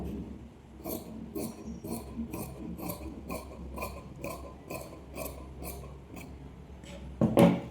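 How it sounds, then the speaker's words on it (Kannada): Scissors cut through blouse fabric in a steady run of about a dozen crisp snips, close and evenly spaced, with a louder rustle of cloth being handled at the end. "ಆಮೇಲೆ ಫಸ್ಟಿಗೆ ಇಲ್ಲಿ 1/4 ಇಂಚ್ ಬಿಟ್ಟು ಇಷ್ಟು ಕಟ್ ಮಾಡ್ಕೊಳ್ಳೋಣ"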